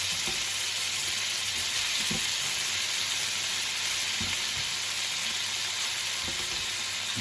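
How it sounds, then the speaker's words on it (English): Pasta sizzles in oil in a frying pan, a dense steady crackling hiss close by, with a few soft knocks as it is stirred. "I'm going to put my pasta in here, just sizzle a bit"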